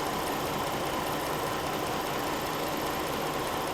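A Jeep engine that idles fine and then bogs down runs at a steady idle during a cam phaser cleaning test, a close, even mechanical drone with a hissy wash and no breaks.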